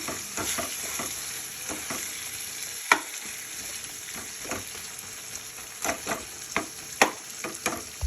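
Tomato chutney is stirred in a hot pan: a soft sizzle runs underneath while a spoon scrapes and clacks against the pan in irregular bursts, with a few sharper knocks. No one speaks.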